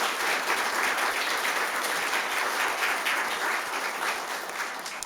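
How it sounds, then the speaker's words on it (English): Audience applause fills a fire department awards ceremony, a steady dense patter of many hands clapping at close range, sustained without pause and with no voices over it. "So a round of applause for our Sterling Heights Police Department."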